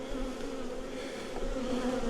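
Italian honey bees buzzing at a strong hive in a bee yard, a dense, steady, close-up drone of many wings with no other sound.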